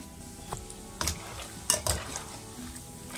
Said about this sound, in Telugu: ఒక్కొక్క దాన్ని ఈ బౌల్ తో వేసుకుంటున్నాను వీటిని కూడా దోరగా వేయించుకుందాం